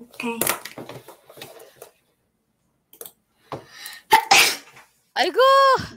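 A single sharp sneeze bursts out between bits of conversation, loud and close, with people talking before and after it.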